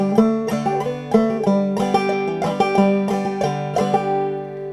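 Banjo picking the closing lines of a tune, a steady run of bright plucked notes with sharp attacks and ringing overtones, close and clear with no voices.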